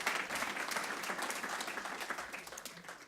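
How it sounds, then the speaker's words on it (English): A conference audience gives warm applause as a presenter comes to the stage, a soft, fairly distant wash of clapping that swells early and gradually tapers off. "please give her a warm applause"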